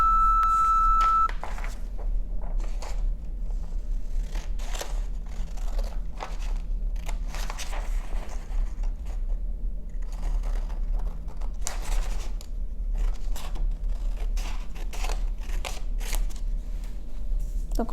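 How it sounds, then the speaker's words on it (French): Scissors snip repeatedly at paper, cutting out paper wings, in short, irregular bursts over a low background hum, close by, with a brief electronic tone at the start. "Donc, on prend nos ciseaux"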